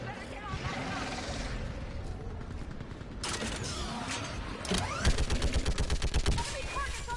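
Mass Effect 3 battle with heavy gunfire, a continuous rumbling barrage that swells into a rapid run of loud repeated shots near the end, mixed with mechanical clatter and blasts under a constant roar.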